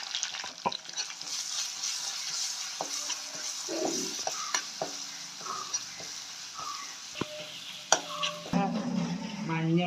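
Garlic and green chilli paste with spices being stirred in a hot pan for a crab chammanthi, a steady sizzle and frying crackle under scraping spoon strokes, with a louder burst of sizzling near the end.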